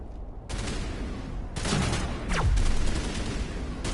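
Gunfire from a Stalker enemy in Mass Effect Legendary Edition, heard as bursts of shots that start after a brief quiet and keep up in several loud volleys with a sweeping streak mid-clip.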